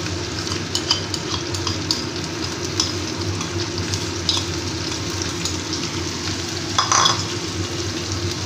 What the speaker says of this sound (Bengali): এবার আমি এই দইয়ের মিশ্রণটাকে দিয়ে দিচ্ছি